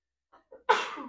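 A single loud, close sneeze bursts out after two soft preparatory intakes of breath, heard during a church sermon.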